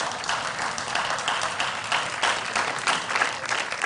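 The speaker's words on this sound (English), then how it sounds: "They deserve another round of applause, please." An audience applauds at a school quiz final, a continuous crowd of hands clapping at a steady, moderate level with slight surges, lasting the full few seconds without speech.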